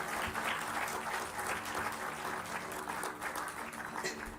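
An audience at a lecture gives a dense, steady round of clapping that fills the whole stretch at an even loudness, with no break and no talking over it.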